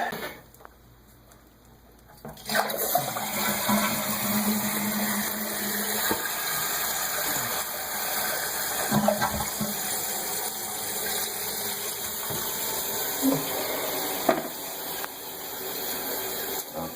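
A toilet flushing just after a new wax ring has been installed: a steady rush of water starts after a brief quiet moment and keeps running and refilling close by, with no talk over it.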